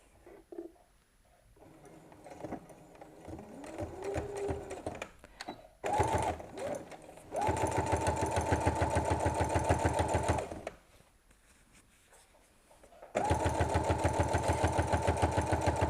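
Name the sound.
sewing machine stitching quilt pieces with 1/4 inch seam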